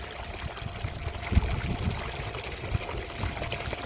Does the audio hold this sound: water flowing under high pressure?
yes